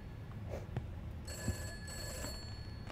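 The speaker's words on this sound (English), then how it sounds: "Why's the phone ringing?" A telephone rings inside the Summer of '58 horror game, its bell tones coming in from about midway and holding steady over low game ambience, moderately faint with no speech.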